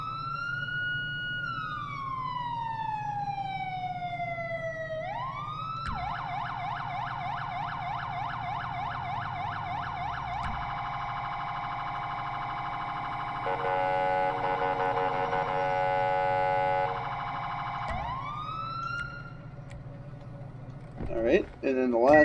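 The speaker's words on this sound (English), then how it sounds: "And then here are the sirens." Electronic video game sirens wail in sequence: a rising and falling tone, then a rapid yelp, then a different warbling pattern, loud and continuous, ending with a few clicks.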